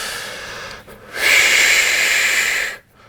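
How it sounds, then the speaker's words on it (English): A slow, controlled exhale used to calm asthma breathing, a single long breathy hiss lasting over a second, close and fairly loud, preceded by a softer breath. "my brain hears the exhale sound, and this calms my brain, calms my mind"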